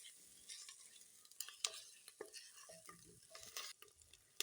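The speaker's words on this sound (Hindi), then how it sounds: "अब इसमें लहसुन अदरक का पेस्ट ऐड कर देंगे और इसको भी तकरीबन 2 से 3 मिनट तक अच्छी तरह इसकी भुनाई कर लेंगे" Garlic ginger paste is sautéed and stirred in a clay handi pot: soft scraping stirs and spoon clinks against the pot over a faint, quiet sizzle, with a few sharper knocks.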